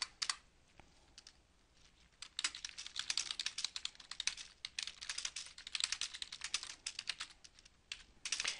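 Rapid keystrokes on a computer keyboard as an email is typed, a dense clatter of close clicks, sparse at first, then steady and busy to the end.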